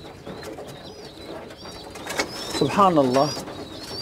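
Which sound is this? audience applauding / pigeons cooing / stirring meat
pigeons cooing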